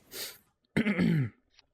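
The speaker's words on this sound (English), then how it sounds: "Sorry for the coughing." A single harsh cough burst, then a louder, longer throat-clearing rasp, up close with quiet gaps between.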